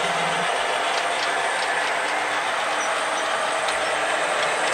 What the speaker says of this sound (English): Massive container train going through.